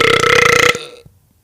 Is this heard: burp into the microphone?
yes